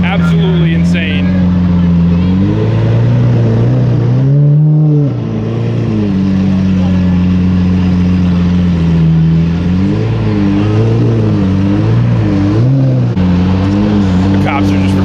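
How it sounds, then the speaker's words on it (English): A Lamborghini Aventador engine at a car meet gives a loud, sustained rumble with rising and falling revs close by, while someone talks over it and other cars idle in the background. "We got another absolutely insane Aventador rolling on up to join the multicolor chrome."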